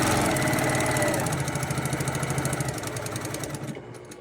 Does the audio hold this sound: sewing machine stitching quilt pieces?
yes